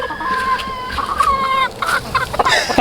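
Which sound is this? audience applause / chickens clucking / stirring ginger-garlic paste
chickens clucking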